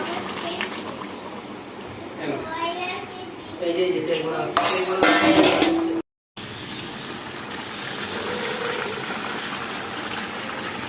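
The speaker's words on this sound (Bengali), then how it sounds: "এবার এর মধ্যে দিয়ে দেবো গরম জল" Hot water poured into a pan of spiced raw jackfruit and potato curry, a brief gushing splash with some pot clatter, while a person talks over it nearby.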